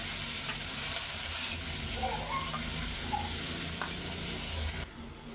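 Egg bhuna with onion paste frying in hot oil gives a steady, close sizzle with light stirring, which thins out abruptly near the end.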